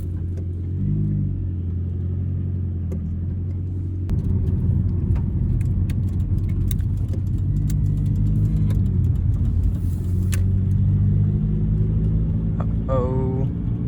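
A Nissan S-chassis car fitted with a no-cut front-mount intercooler idles and rumbles steadily up close, with the engine note swelling midway and a jingle of keys or rattles near the end.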